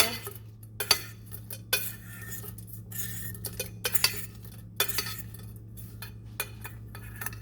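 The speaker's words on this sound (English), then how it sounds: "And just toss that in the mixture" Salmon bites being tossed through a mixture in a bowl, giving repeated light clinks and scrapes of utensil against dish in irregular bursts over a steady low hum, with no talking.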